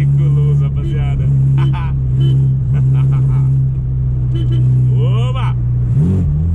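Chevrolet Chevette engine idling steadily up close with a low, even hum, rising briefly in a couple of small revs; people talk over it throughout.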